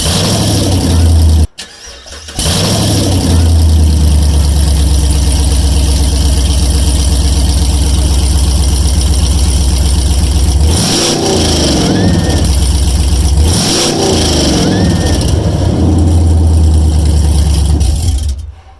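A modded Chevrolet Camaro cranks and fires up with a loud bark, then settles into a heavy rumbling idle with a few rising revs, and voices talk faintly over it.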